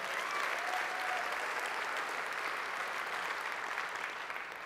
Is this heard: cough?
no